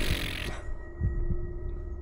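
A heartbeat sound effect in a black-and-white horror video game, a low throbbing pulse of a few beats under a steady hum and a hiss that cuts off early, with no talk.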